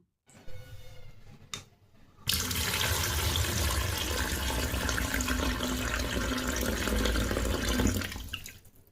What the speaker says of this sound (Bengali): পুঁটি মাছগুলো একটা একটা করে আমি অনেকক্ষণ ধরে ধুয়েছি